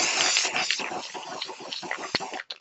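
Tulip Colour Spray paint hissing from an aerosol can, a steady fairly quiet spray lasting a couple of seconds with a few small clicks, no talking.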